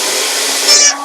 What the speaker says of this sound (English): We're going to see how it sounds to connect a hairdryer to it.